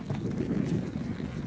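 Horse hooves clopping on a trail during a hillside ride on a Foxtrotter mare, a quick run of soft, muffled hoofbeats heard up close with light wind.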